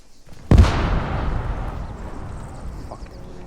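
An explosive charge goes off during explosive training as a single sharp, heavy blast. A long rumbling tail decays over the next few seconds, outdoors and close by.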